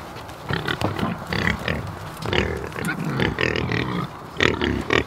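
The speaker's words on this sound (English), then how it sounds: "off to feed Porky, Peppa, and Pinky, our three little pigs." Several farm pigs grunt and oink in close, busy bursts at feeding time, a steady jumble of snorts and squeals with no talk over them.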